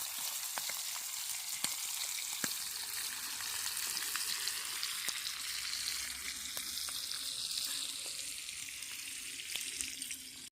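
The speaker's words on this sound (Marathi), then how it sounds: "पहिलं तर चिलापी फ्राय बनवते" Tilapia fries in a pan with a constant close crackling hiss, dotted with scattered sharp pops and spits of oil.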